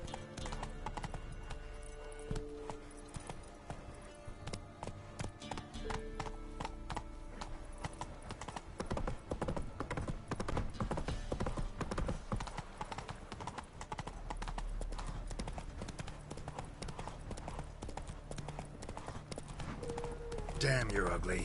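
Horse hooves clip-clop steadily in The Witcher 3 with a rhythmic, close, moderately loud beat. A whinny is also heard, and game dialogue plays over it.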